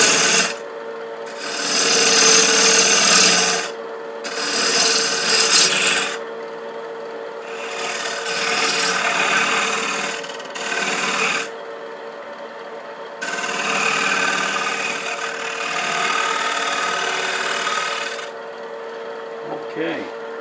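Hand tool rasping and shaping the wooden leg at the bottom of a box, repeated rough scraping strokes of a few seconds each separated by short pauses, close and moderately loud.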